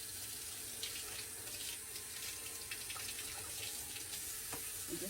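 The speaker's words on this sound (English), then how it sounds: "Now I'm going to take my brushes and rinse them out really well with warm water." Makeup brushes are rinsed under warm running tap water, a steady, close splashing rush of flowing water that fills the whole stretch without pause.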